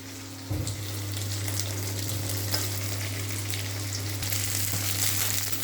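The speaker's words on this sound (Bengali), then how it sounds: "একটুখানি ভাজা ভাজা মতো করে নেবো" A few pieces of ginger and garlic fry in a pan with roughly chopped onion and a pinch of salt, a steady, even sizzle over a low hum, with no talking.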